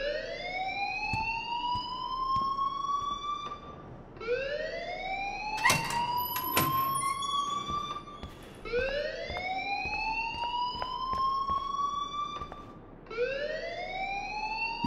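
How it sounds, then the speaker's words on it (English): A school alarm from the video game Life Is Strange wails in repeated rising electronic sweeps, roughly every four seconds. It sounds steady and fairly loud, with scattered clicks and taps under it. "please turn off that alarm"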